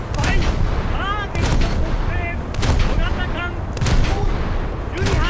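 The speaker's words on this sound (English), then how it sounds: "Rear turret is back up, and we return fire on the French destroyer again." A warship's rear turret guns fire repeatedly at a French destroyer in a naval battle game, heavy booming salvos roughly every second and a half, loud and close, with a voice talking between shots.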